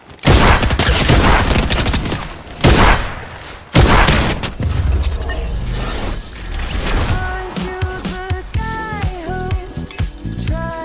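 Sharp sniper rifle shots crack out in a Fortnite match, three loud separate blasts spaced a second or two apart, followed by quieter game sounds and music.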